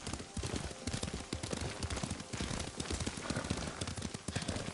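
In Ghost of Tsushima, a horse is ridden at pace, its hooves drumming a fast, continuous clip-clop rhythm that stays steady and prominent throughout.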